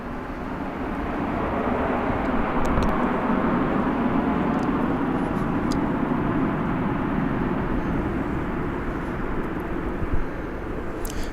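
An American Airlines heavy jet on flight 102 from Honolulu lands at DFW International Airport, a broad, loud, sustained roar of jet engines that holds steady for several seconds with faint distant clatter.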